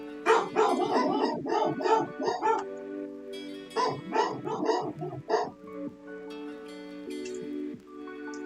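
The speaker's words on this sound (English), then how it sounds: "Why are my dogs barking?" Several dogs bark indoors at home in two quick, loud flurries of overlapping barks, then fall into drawn-out whining, howl-like tones near the end.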